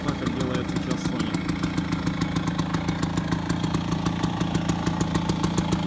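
A motorcycle engine idles steadily in neutral, a continuous rapid thrumming pulse that holds close and loud throughout with no talking heard.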